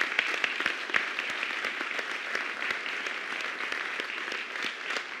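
Sustained audience applause at a talk event, dense steady clapping from a large crowd filling the room throughout, fairly close, with no speech over it.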